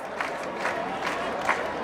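A large crowd waits outside a monastery for a procession, a dense murmur of many voices with scattered cheers and shouts swelling now and then.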